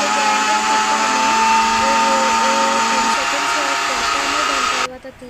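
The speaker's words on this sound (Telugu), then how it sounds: "చూడండి ఎలా గ్రైండర్ పడుతున్నామో." A mixer grinder whirs steadily as it blends an Oreo thick shake with chocolates, a loud continuous motor drone with a shifting pitch that cuts off abruptly near the end.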